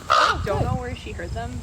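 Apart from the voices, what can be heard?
raven calling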